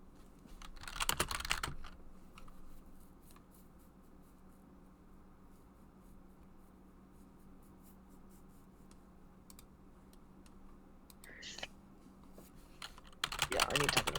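A computer keyboard is typed on in quick clattering bursts, loudest at the start and end, with quieter faint tapping and soft background noise in between.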